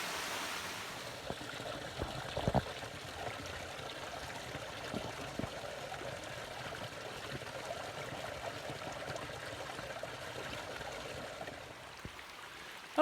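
Mountain streams near Maidenhair Falls flow with a soft, steady rushing wash that stays faint and even throughout, with no talking.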